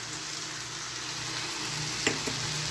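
Kalmi greens with jaggery, dry chilli and peanuts sizzle steadily in a frying pan, with a soft hiss throughout and a couple of brief stirring scrapes near the end.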